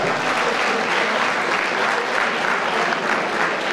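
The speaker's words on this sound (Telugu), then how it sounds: "a big round of applause to the police department" An auditorium audience at a traffic awareness event gives a police department a big round of applause, a dense, steady roar of clapping that stays loud and even throughout.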